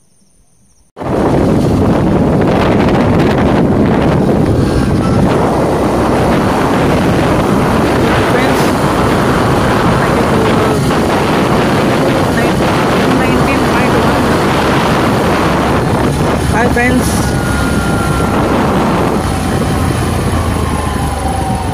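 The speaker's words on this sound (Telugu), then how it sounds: "సో రైడింగ్ చేసుకుంటూ వెళ్దాం, చూద్దాం." Honda CT 110X motorcycle ridden on the Srisailam ghat road, a steady loud engine drone mixed with heavy wind rush from the moment the ride starts, continuing unbroken throughout.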